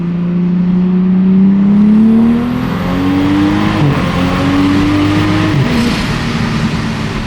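A Toyota Supra engine accelerating steadily in comfort mode, a loud, close rising drone that climbs in pitch, dips briefly, then pulls again with no talking.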